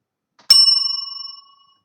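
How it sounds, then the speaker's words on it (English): A single clear ding from a bicycle bell, struck once and ringing on with a bright metallic tone that fades away over about a second, with silence around it. "So I do have a bell if we wanted to play some improv games."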